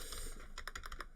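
A short burst of typing on a computer keyboard, a quick run of crisp key clicks close by, with no voice over it.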